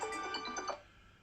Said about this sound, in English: Phone rang.